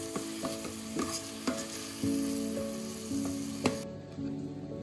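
Onions sizzling in a pan with ginger, garlic, chili and tomato paste for egg biryani, a steady fry broken by repeated stirring scrapes and clinks, close and moderate, with no talk.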